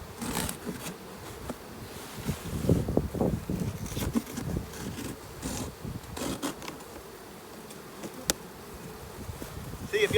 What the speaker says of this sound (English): Now, to get the rest of the bees out of this box.